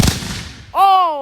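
A malfunctioning backyard firework goes off with one sharp, close bang that fades quickly. A person then lets out a loud, drawn-out yell.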